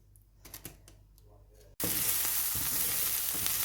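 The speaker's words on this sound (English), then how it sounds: "I'm going to start by browning off the onions. On a medium heat." Onions brown over medium heat in garlic-infused olive oil for a ground beef pasta, a loud steady sizzle bursting in abruptly after a brief quiet stretch of faint clicks.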